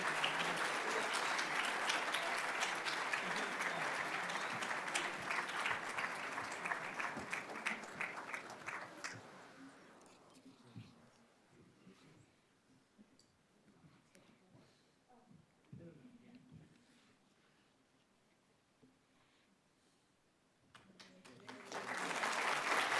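A seated audience at a business school awards ceremony at Lincoln Center applauds an award winner with sustained, dense clapping that fades into a speaker's voice, then swells again as applause returns at the end.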